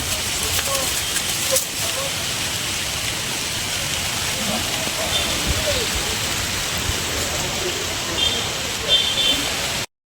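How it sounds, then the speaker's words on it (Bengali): Heavy morning rain in a village, close and steady, a dense unbroken hiss of drops on leaves and surfaces that continues throughout without a break. "খুব জোর বৃষ্টি এসছে"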